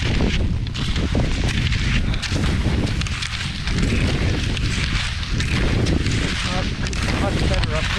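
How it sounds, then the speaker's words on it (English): Strong wind roars and buffets the microphone without a break while skate skiing on a snowy mountain trail at Ustaoset in January, loud and close, with no clear speech over it. "Much better up here. The wind doesn't blow the snow away that much."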